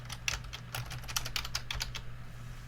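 Quick bursts of typing on a computer keyboard, a run of light clicking keystrokes with short pauses, close and fairly quiet.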